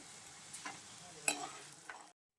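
Peanuts and urad dal fry in oil in a pan for tamarind pulihora, a soft quiet sizzle broken by a few stirring scrapes before cutting off abruptly.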